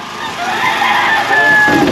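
Chickens cluck continuously through a busy, noisy backdrop, with a rooster-like call rising near the end.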